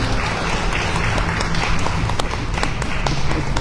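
Dense, sustained audience applause at a poetry and reading-promotion conference, many hands clapping steadily and fairly close for several seconds.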